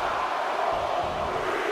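A steady roar from an arena crowd during a WWE 2K23 Royal Rumble match, continuous cheering and clamor with no breaks, at even loudness throughout.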